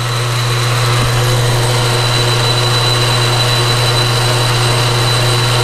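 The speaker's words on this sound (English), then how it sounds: "let's move up to the carriage now and engage it" A 1940 South Bend 10-inch lathe runs steadily with its carriage power feed engaged, a loud continuous motor whine and drone with a hum beneath, unbroken and without talk.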